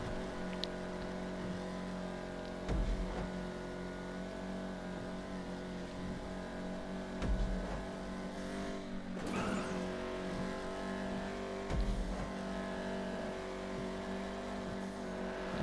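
A Vapid Dominator GTX muscle car in GTA Online drones around a racetrack, its choked-sounding engine a steady low hum with layered harmonics and occasional brief surges, continuous and fairly even in level.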